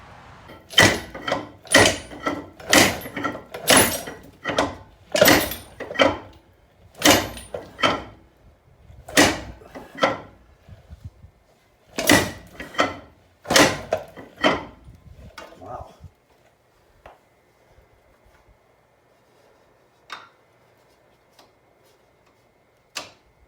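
A Dana 44 rear axle shaft is worked loose and drawn out of its carrier, giving a run of sharp metallic knocks and clunks at an irregular beat that thin out into a few faint taps, then near silence.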